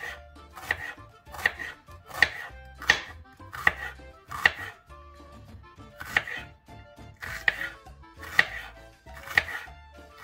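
A knife chops habanero peppers and onion on a board in steady, crisp strokes, roughly one per second, each cut a sharp, close knock, with no talking.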